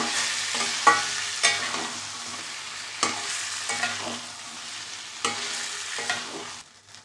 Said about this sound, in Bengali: এবার আমি গাটি কচুগুলো দিয়ে দিলাম, আবারও কষিয়ে নেব ভালোভাবে।